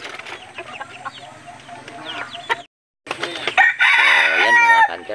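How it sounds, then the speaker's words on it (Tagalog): A red junglefowl rooster on a backyard farm crows loudly and close, with strong rising-and-falling calls near the end, over a bed of quieter clucking and other bird chatter. "Na-update na natin itong mga alaga nating mga manok labuyo"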